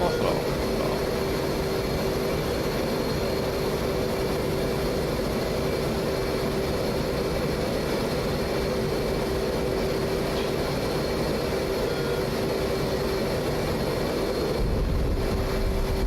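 F/A-18 Hornet jet engine in the DCS flight simulator, a continuous loud turbine roar with a steady whine held throughout and a brief change near the end, with no talk over it.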